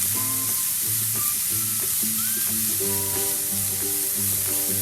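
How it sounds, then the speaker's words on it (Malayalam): Sliced onions and green chillies sauté in a pan, giving off a steady, close sizzle and crackle throughout, with a melodic tune playing in the background and no talking. "ഇത് നന്നായിട്ടൊന്ന് വഴറ്റിയെടുക്കാം."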